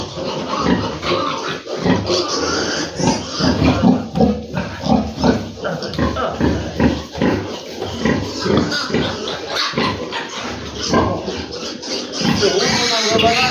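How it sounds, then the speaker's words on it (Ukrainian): A sow and her piglets grunt and squeal as she prepares to nurse them on a pig farm, a dense, continuous run of close, overlapping grunts with a person talking among them. "Зараз ми ждемо, свиноматка почне їх кормити"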